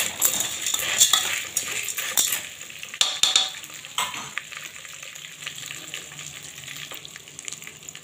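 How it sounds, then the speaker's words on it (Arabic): Pasta frying in about three spoons of oil in a pot, sizzling and crackling while a utensil scrapes and clinks against the metal, fading to a steady soft fry. "حطيت حلة كده حوالي 3 معالق من الزيت ونزلت بكيس مكرونة"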